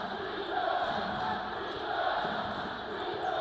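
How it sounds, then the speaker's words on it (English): An arena crowd at a Tennessee State versus Jacksonville State college basketball game roars in a dense, sustained wash of cheering that swells slightly in places, with a commentator's voice faintly under it. "Crowd really getting into it now."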